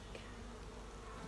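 Honey bees swarm at an opened beehive during a frame check, making a dense, continuous buzzing drone that is close and steady, with no talk.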